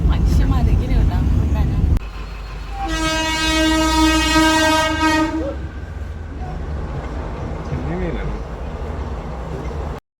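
A train horn sounds at a railway crossing in Varkala, a loud sustained multi-tone blast lasting a few seconds amid rumbling rail noise and background traffic.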